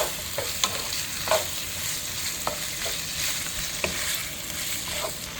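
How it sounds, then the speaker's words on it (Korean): Squid stir-frying in olive oil in a frying pan, a steady loud sizzle with intermittent scraping stirs and clacks of a utensil against the pan, no talking. "이 오징어를 갖다가 저 후라이팬에 가서 이제 볶을 거예요"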